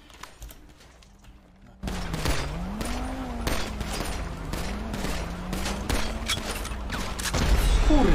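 A rapid, loud volley of gunshots in a GTA V roleplay game session, cracking repeatedly over a dense background after a quiet opening, with a voice audible through the shooting.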